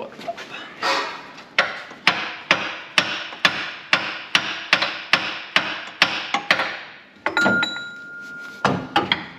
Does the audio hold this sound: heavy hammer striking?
yes